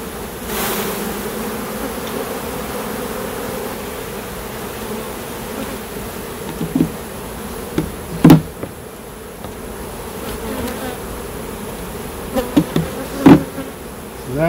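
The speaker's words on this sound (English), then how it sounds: "A lot of bees right here." Honeybees buzz steadily around an open hive during summer hive splitting and requeening, a dense continuous drone with occasional louder passes from bees flying close.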